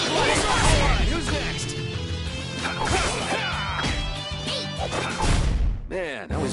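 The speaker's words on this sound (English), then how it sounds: "Wind blade." A burst of sharp swooshing and smashing impacts from a Wind Blade attack in Tales of Vesperia, loud and dense with game music and effects, a voice calling out over the action.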